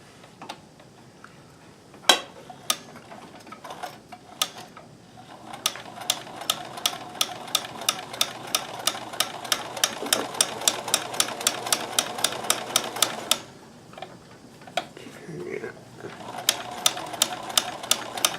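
A Kenmore 158.1914 monogrammer sewing machine stitches in rapid, regular clicking bursts, pausing briefly twice before running on, while the fabric struggles to feed and starts jamming; close and steady, without talk.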